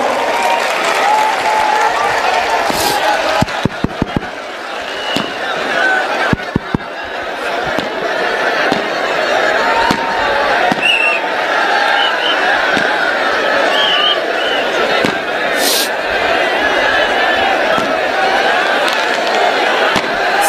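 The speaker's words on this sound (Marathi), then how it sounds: "पुन्हा एकदा जोरदार टाळ्यांचा जल्लोष." Sustained crowd applause and cheering at a large outdoor Maratha rally, dense and loud throughout, with a few sharp bangs like firecrackers and occasional voices mixed in.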